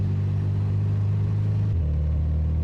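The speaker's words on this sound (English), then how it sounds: "I can hear the engine." Steady car engine hum while driving, heard from inside the car: a loud low rumble that drops slightly in pitch partway through as the engine settles, with no voices over it.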